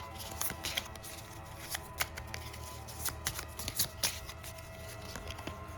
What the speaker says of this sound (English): Let's shuffle up our exploration deck.